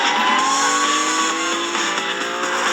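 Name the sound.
person imitating a moving car with their voice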